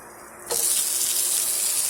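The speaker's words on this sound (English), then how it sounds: "I'm going to add a little bit of water." Water pours from a tap into a pot of sausage patties cooking over medium heat, a sudden steady rushing gush that starts partway in and runs on loudly with no talk.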